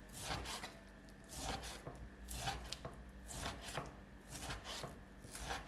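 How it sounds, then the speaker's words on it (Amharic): A knife chops repeatedly on a board, slicing beef and other ingredients for beef stroganoff in a steady, close series of crisp strikes with no talking. "ስላይስ ካደረግን በኋላ ጁሊያን ወይም ደግሞ ዳይስ መክተፍ ይቻላል።"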